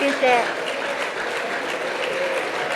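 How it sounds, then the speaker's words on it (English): A debate audience at a Nigerian political event breaks into steady, dense applause that fills the whole stretch, with a voice briefly heard near the start. "Prince deserved another round of applause"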